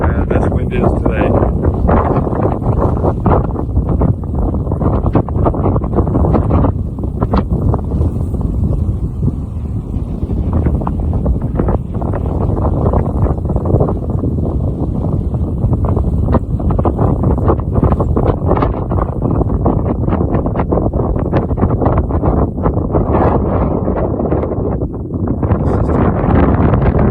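Strong high wind batters the microphone outdoors with loud, constant roaring and buffeting gusts that last the whole half-minute.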